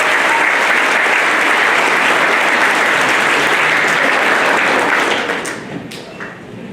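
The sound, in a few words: audience applause at a school awards ceremony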